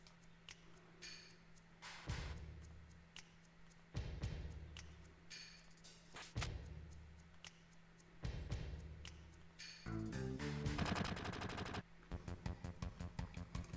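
Gunfire in Final Fantasy VII, with heavy bursts of shots recurring every couple of seconds over a steady hum, then rapid rattling volleys toward the end, fairly loud with no talking.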